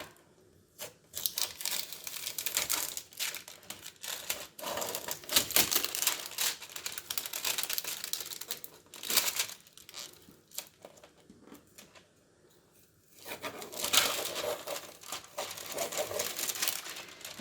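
A vinyl label sheet peels off a sticky Cricut cutting mat in long, crackling tearing strokes. The rips come close and fairly loud, broken by short pauses.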